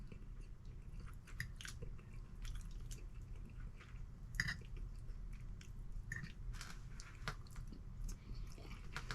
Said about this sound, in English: Let me taste my macaroni first.